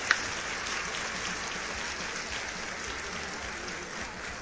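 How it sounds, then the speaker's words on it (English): Sustained applause from an audience, a dense even patter of many hands clapping, moderately loud and steady throughout. "big round of applause to Stevie."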